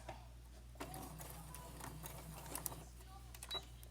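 A sewing machine stitches fabric for a zipper infinity scarf, faint, quick mechanical ticking and whirring under light background hum, with scattered small clicks and taps.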